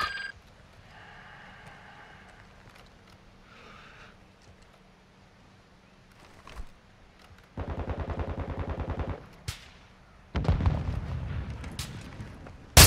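Gunfire in Warzone 2: two bursts of rapid automatic fire, a longer sustained volley then a second one, with faint clicks and ambient game sound between, moderately close.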